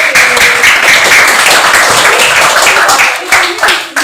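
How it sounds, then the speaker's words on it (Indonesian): Students in a classroom clap for a guest, a loud, close burst of many hands that keeps going steadily and then thins out near the end, with some voices mixed in. "Tepuk tangan lagi buat Bapak ini sekali."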